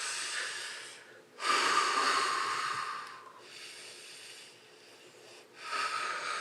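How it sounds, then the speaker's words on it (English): Someone takes long, deep breaths in and out during a singing lesson, loud and close: airy rushes of breath alternate with brief pauses, about three full cycles with no speech. "keep breathing in and out"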